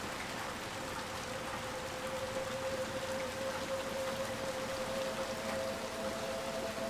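Steady, even rain hisses throughout a scene of the video game Little Nightmares II, with a faint sustained tone running underneath.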